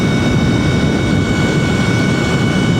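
A Surron electric dirt bike with a Warp9 54-tooth sprocket and gold non-O-ring race chain runs at full throttle on the road, a loud, steady roar of motor and wind rush that holds without a break.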